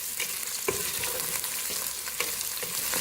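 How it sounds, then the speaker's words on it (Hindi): Finely chopped onions fry in hot oil for aloo baingan, a steady close sizzle with a few sharp stirring scrapes and no talk. "इसको बारीक काट के इसको हल्का सा फ्राई करेंगे।"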